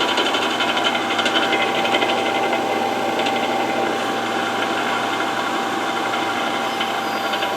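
A 5 HP three-phase electric motor runs on a variable frequency drive, giving a steady, loud mechanical whir with a constant high whine and faint irregular rattling, unchanging throughout.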